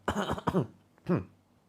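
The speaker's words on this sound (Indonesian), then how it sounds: "Batuk-batukan." A few short coughs close by: a quick pair, then a single cough after a brief pause.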